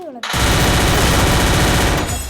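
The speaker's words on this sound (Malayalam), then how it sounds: "ഒറ്റ വെടി കയറിയത്" Dense, sustained burst of rapid automatic gunfire, loud and close, rattling continuously for about two seconds before cutting off, with no speech over it.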